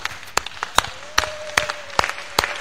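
Congregation clapping in a church, acclaiming the Lord: sharp, regular hand claps sounding roughly every 0.4 seconds in a steady rhythm, with a faint sustained tone in the background.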